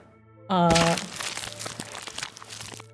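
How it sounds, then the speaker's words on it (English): A burst of crunching and crinkling, loud and close, comes right after a short tonal sound effect and fades into scattered crackles during a Dungeons & Dragons session, with voices faintly present underneath. "That was a sound that is not matched up at all with the visual. Just crunching."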